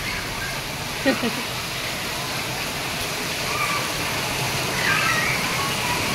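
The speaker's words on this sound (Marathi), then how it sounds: "इकडं पाऊस पडायला लागला" The first rain of the season falls in Surat as a broad, constant wash of rain noise. Faint voices come through here and there in the background.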